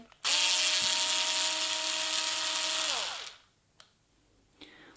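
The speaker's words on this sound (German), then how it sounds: "Dieses Servohorn kannst du jetzt noch ganz einfach abschrauben" A small electric tool whirs steadily for about three seconds while unscrewing the servo horn from a Traxxas 2075X steering servo, then winds down and stops, followed by a couple of faint clicks.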